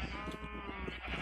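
A sheep in the video game Minecraft lets out a single wavering bleat, close and clear, with no talk over it.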